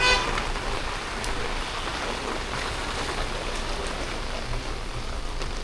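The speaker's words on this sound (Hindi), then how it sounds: "अरे बारिश हो रही है" Steady rain falls around a roadside fuel pump stop, a dense, even hiss that holds at a constant level throughout with no voices.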